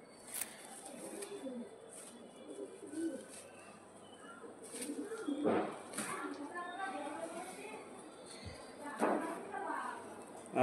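Pigeons coo softly and intermittently in a pigeon loft, low murmuring calls rising in short bursts, while someone talks over them throughout.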